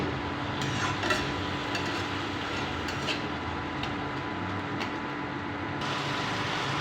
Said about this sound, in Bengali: এবারে এটাকে ভালো করে জলটা শুকিয়ে একটু ভাজা ভাজা করতে হবে।